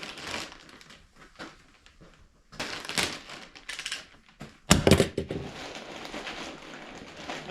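Blade slicing open a container from an abandoned storage unit: scattered cutting and tearing scrapes and crinkles come in short bursts, with rustling handling noise in between.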